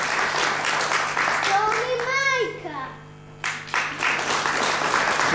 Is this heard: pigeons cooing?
no